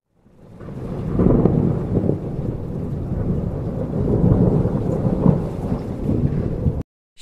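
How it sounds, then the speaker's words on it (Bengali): Heavy rain pours down with rolling thunder, a dense, loud roar swelling in after a quiet start and rumbling steadily before cutting off abruptly, with no voices. "সারা দিন ঝমঝম করে বৃষ্টি পড়তে লাগলো।"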